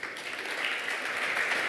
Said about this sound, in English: Next, warm applause for Christian Bubenheim from Scout24.